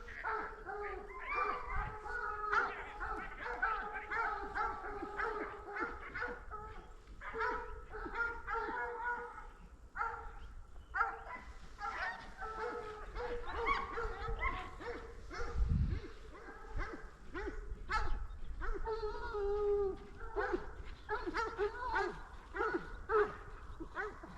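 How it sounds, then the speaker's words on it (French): Hunting dogs bark and yelp almost without pause during an August boar drive hunt, several dogs overlapping near and far in a dense, excited chorus with some talk mixed in. "mettre en avant les chiens, les trackers, sans qui notre passion ne serait pas possible"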